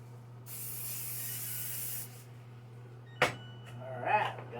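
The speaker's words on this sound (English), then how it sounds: "I'm going to go ahead and spray this with, I just use original Pam on this" Original Pam cooking spray hisses onto a pan in one steady burst of about a second and a half, followed by a sharp clack and some faint handling rustle over a low background hum.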